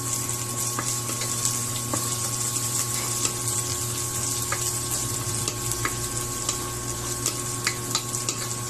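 Pork pieces sautéing in a pan for Filipino pork adobo, giving a steady, close sizzle with faint stirring scrapes and a constant background hum throughout.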